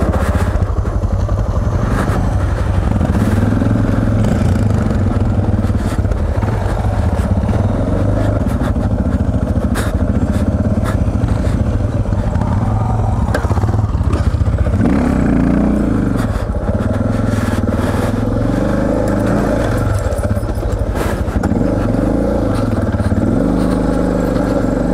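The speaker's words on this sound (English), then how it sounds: "You can hear the rear wheel sliding there" A Suzuki DR650 motorcycle rides along a sandy railway track, its single-cylinder engine droning loud and close throughout, with rhythmic pulsing and clatter as the rear wheel slides sideways in the sand.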